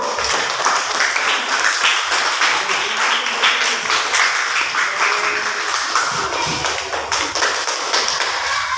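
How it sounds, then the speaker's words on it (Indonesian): A class of students claps together in a continuous burst of applause, steady and fairly loud throughout with dense overlapping hand claps and no clear talk. "Bagus, tepuk tangan dulu."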